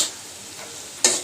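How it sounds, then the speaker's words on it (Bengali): Vegetables fry for pasta, seasoned with cumin and garam masala, giving a brief soft sizzle and a sharp scrape of stirring near the end. "পাস্তার জন্য সবজি ভাজা।"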